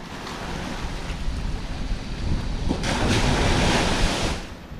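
Sea waves wash and splash steadily around a small boat as it takes on water near an island camping spot, with broad surf and wind noise swelling louder midway and no voices.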